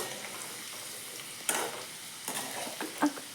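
Chutney ingredients with turmeric frying in a pan, a quiet low sizzle with a few sharper stirring scrapes and clatters at irregular moments, no talking.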